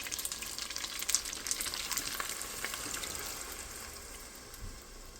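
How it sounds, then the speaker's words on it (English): Canned corn hits a hot pan and fries with a steady, loud sizzle and crackle throughout, with a few sharper pops early on and no talking. "now I'm going to pour in the can of corn"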